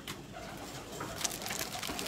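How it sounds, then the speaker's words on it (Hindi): Caged pigeons, some of them ailing, give soft, low cooing close by, a brief murmur over faint background noise. "ये देखें केज के अंदर कैसे हमने ये कंट्रोल दिया हुआ है, ये सामने आपके जी ये केज है, कबूतर कितने फ्रेश बैठे हुए हैं"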